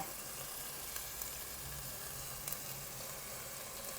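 Steady sizzling of large chilies and bird's eye chilies stir-fried in a pan with lemongrass, shallots, garlic and coriander root for a Lao-style curry, a continuous close hiss with occasional small clinks.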